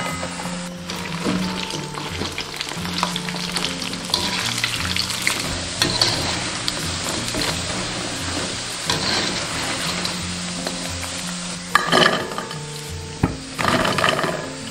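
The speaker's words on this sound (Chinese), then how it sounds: "然后我们把油温升高，升到7、8成热，再复炸一遍" Sichuan crispy pork chunks get a second deep-fry in hot oil, giving a loud, steady, crackling sizzle throughout with occasional stirring clatter and brief sharper pops near the end, no voices.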